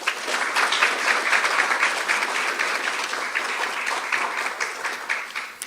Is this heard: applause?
yes